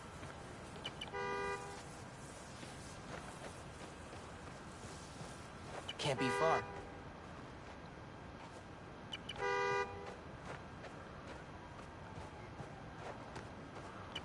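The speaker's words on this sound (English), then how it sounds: "Follow the honk." A car horn in a video game honks in short bursts, three separate toots spread apart at moderate distance, with a person talking over the background.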